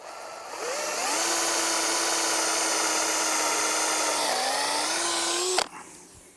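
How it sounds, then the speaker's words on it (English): A power drill whines steadily as it bores holes into timber for a garden arch for several seconds, pitch dipping slightly under load before stopping abruptly. "We're going to drill our holes now."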